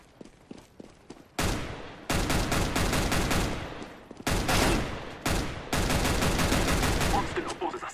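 Dense video-game gunfire: sustained bursts of automatic fire and rapid shots in several long stretches separated by brief pauses, loud and close, with a faint voice in the gaps.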